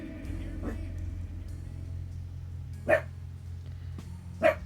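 A dog gives two short, sharp barks a second or so apart over a low steady hum, with a fainter yip earlier.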